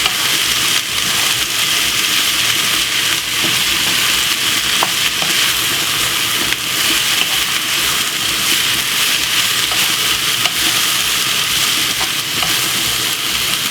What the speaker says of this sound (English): And give it a nice stir.